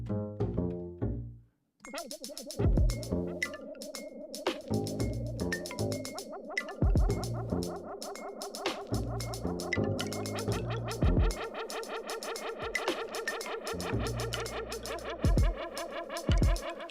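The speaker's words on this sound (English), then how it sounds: "listen to that like little rattle in there" A rattle sound from a free downloaded music software expansion plays in a looping, rhythmic pattern of tonal, buzzing, rattling hits with short gaps, steady and fairly close, with no talking over it.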